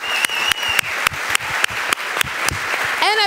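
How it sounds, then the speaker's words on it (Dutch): A studio audience gives loud, sustained applause for the guests of a Dutch television programme, a dense wash of clapping with regular sharp accents throughout, followed by a brief rising whistle-like sound at the end. "Mag ik een hard applaus voor Thomas Onheuvel, Dennis de Forest, Lise Korpershoek en Freya Terpstra"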